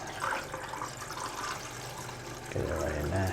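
Liquid developer chemical poured into a film developing tank at home, a soft continuous splashing and gurgle that grows fuller and louder near the end, fairly close and quiet, with no speech.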